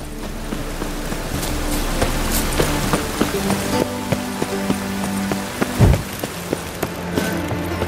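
Steady rain in The Witcher 3: Wild Hunt, a continuous patter on surfaces with scattered sharper drops and a brief thud near the end, no voices.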